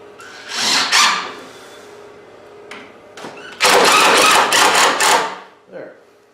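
A power drill drives a screw into pine wood for a countertop, the motor whirring in short bursts and then a long sustained run, close and loud, with someone talking briefly between the bursts.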